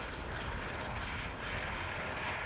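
A skydiving airplane climbs at about 15,000 feet over New Zealand, its engine a loud, steady broadband drone that fills the cabin without a break and with no talk over it.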